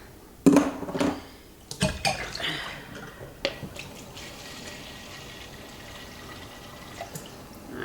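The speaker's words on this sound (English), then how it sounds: "I'm gonna dip it in the water" Splashing and trickling water as a makeup brush is dipped into the water bowl of an electric brush cleaner, a few sharp sloshes early, then softer dripping and low bubbling.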